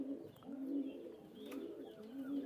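Soft, throaty Teddy pigeon coos repeat in a low rolling rhythm, close by, with faint chirps and background noise around them.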